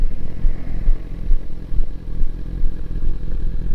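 A BMW S1000RR sportbike's engine in Berlin, a loud, steady low rumble with a slight pulsing flutter, heard close up and alone.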